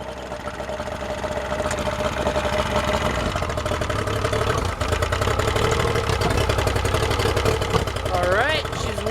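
A Yamaha outboard motor idles steadily at close range while warming up, a continuous mid-pitched engine drone with faint knocking, and a voice briefly breaks in near the end.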